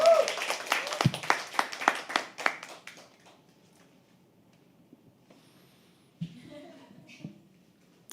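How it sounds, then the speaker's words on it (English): Audience at a poetry open mic at The Habitat gives a short burst of claps that thins out and fades within a few seconds, followed by quiet room sound and a few faint knocks. "Can you please have an applause?"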